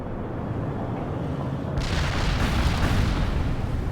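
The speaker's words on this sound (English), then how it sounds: "Artillery strike was on the mark." Artillery strike explosions in a war video game: a low rumbling boom that swells suddenly and rolls on as a heavy, sustained blast, loud and with no talking.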